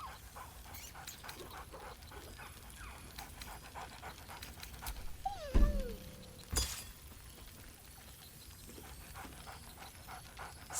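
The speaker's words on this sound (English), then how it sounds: "Scratch barks merrily in something like agreement." Scratch, a dog in the video game Baldur's Gate 3, gives a few short, excited barks and pants amid a busy festive game soundscape, with a sharp burst near the middle.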